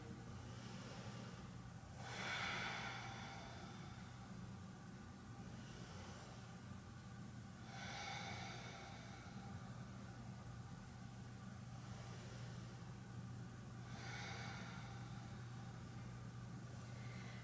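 Slow, faint breaths drawn during a standing forward-fold hamstring stretch in a yoga practice, three soft airy swells spaced evenly several seconds apart over a steady low room hum.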